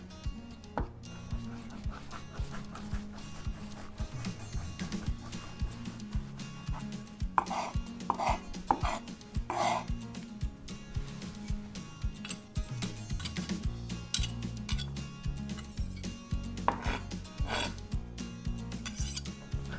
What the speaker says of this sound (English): for the fine mince, I will use my tried and true ulu blade because it's fun